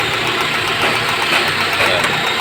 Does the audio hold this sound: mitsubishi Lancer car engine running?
yes